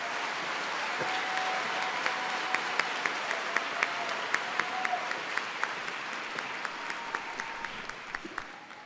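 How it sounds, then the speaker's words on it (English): Audience applause at a College of Natural Resources spring graduation honoring master's graduates, a steady dense patter of many hands filling the room, fairly loud and continuous for the whole stretch with sharper individual claps standing out. "Let's have a round of applause for all of our graduating master's students."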